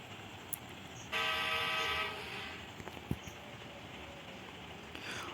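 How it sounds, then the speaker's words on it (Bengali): A train starts up in the mobile game Indian Bike Driving 3D with a single loud horn blast lasting about a second, followed by a quieter rumbling engine and a few sharp clicks. "চলো ট্রেনটাকে স্টার্ট করা যাক।"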